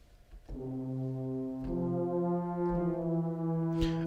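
A Metropolis Ark 5 orchestral sample library plays a sustained forte layer, a dense stack of low brass-like tones swelling in after a brief quiet start and holding steady, with a soft accent near the end.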